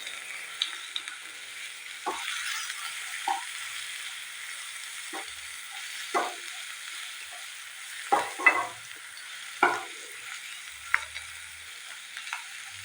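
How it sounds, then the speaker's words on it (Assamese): Onions frying in hot oil, a soft continuous sizzle broken by a handful of sharp scraping stirs of a utensil against the pan, close-up and with no voices. "পিঁয়াজখিনি মই ভালদৰে ভাজি ল'ম।"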